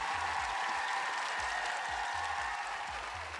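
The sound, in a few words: applause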